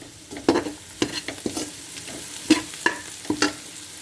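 Potatoes, carrots and mixed vegetables frying with onion in a pan, a steady soft sizzle broken by repeated stirring scrapes and clinks of a spoon, close and moderately loud with no talking.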